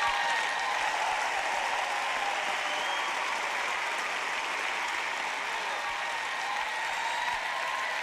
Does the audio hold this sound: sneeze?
no